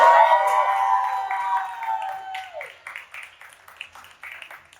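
Applause and cheering from an audience at a Canal Street Market panel event rise after a fading sustained tone, a loose patter of claps with scattered whoops that thins out toward the end.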